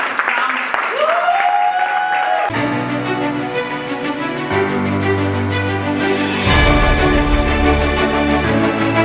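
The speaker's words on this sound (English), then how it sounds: "a very loud round of applause" Audience applause fills a room at a Kerala Center award dinner as an honoree is welcomed to the stage, a loud, steady round of clapping lasting throughout with music-like tones and crowd noise mixed in.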